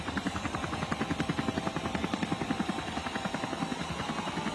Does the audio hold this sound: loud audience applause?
no